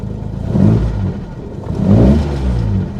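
Close by, a Fiat 1200 Cabriolet classic Pininfarina sports car gets two sharp throttle blips, each rising to a loud rev before easing back to a rumbling idle, with no voices present.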